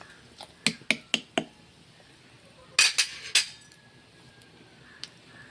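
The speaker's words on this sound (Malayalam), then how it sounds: "എന്ത് സാധനം നമ്മളിട്ടാലും പിന്നെ ഉടനെ ഈ സ്പൂണിട്ടൊന്ന് ഇളക്കി കൊടുക്കണേ" A metal spoon clinks sharply against a pot of Kerala rice kanji, first as four quick strikes, then after a pause as a louder cluster of scrapes and knocks, and finally one soft tap. No one speaks.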